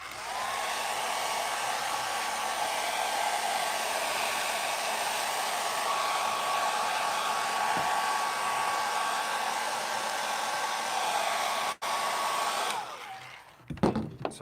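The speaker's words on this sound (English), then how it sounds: "I've got the hairdryer here. Plug that in." Hairdryer blowing continuously at close range, a steady loud whooshing whine held for most of the time before it cuts off near the end, with some handling knocks afterwards.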